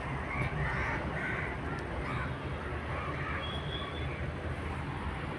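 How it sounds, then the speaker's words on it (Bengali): A large flock of crows caws continuously at a moderate distance, with overlapping harsh calls forming a dense, steady chorus and faint voices mixed in. "লি বাবা, কত কাক!"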